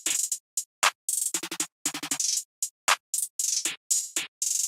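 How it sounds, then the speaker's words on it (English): A short open hi-hat sample from a drum kit, played in a sparse trap-style pattern with crisp bright hits alone, each ringing briefly before cutting off, spaced in a steady rhythmic loop. "Then for the second last thing I used this short openhat from my stash kit again."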